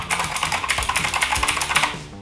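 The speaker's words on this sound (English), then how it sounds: "This is a loud keyboard. This is a mechanical keyboard. And personally, I love the clicky noise" Fast continuous typing on a Keychron K8 loud clicky mechanical keyboard, close up, with dense sharp key clicks in an uneven rhythm and no talking.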